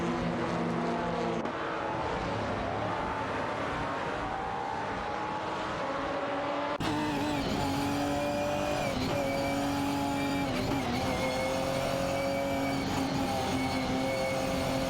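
GT4-class race cars, including a Porsche 718 Cayman, roar past one another in an AI racing video game. Several engines drone and shift pitch continuously, and the sound grows louder and fuller partway through.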